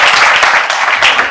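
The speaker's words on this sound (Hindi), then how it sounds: "बहुत तालियां दीपिका मैम, प्रांजल सर के लिए वंस अगेन" Loud, dense applause from an audience at a shipping-career ceremony, a brief burst of many hands clapping together close by.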